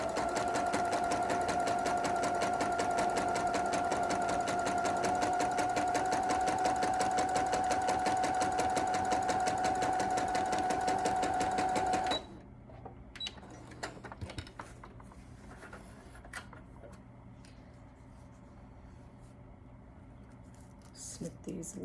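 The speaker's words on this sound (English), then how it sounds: "put the good sides together, the front to the front, and then you just sew down 1/4 inch." A sewing machine runs a quarter-inch seam through quilt pieces placed good sides together, whirring steadily and close for about twelve seconds before stopping, followed by quieter handling noises.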